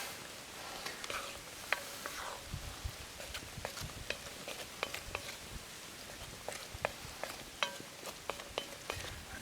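Coyote meat seasoned with Old Bay is stirred in a pan, giving a quiet, irregular series of light clicks and scrapes of a utensil over a faint sizzle, with low murmuring in the background.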